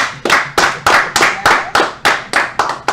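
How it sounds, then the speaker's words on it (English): Studio audience clapping for guests Mr. and Mrs. Harris on a talk show, heard as a close, loud, evenly spaced run of about nine sharp claps in a steady rhythm. "let's give a round of applause to our special guests, Mr. and Mrs. Harris"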